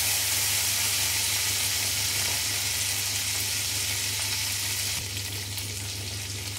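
Garlic and red chilli frying in a pan for a spicy garlic chutney make a loud, continuous hissing sizzle that stays close and unbroken, easing slightly near the end, with no voices.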